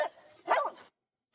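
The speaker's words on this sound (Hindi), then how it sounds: "यह लाइफू इस तरफ लगातार भौंक रहा है।" A dog barks near and sharply, two quick yapping barks in a row, then silence.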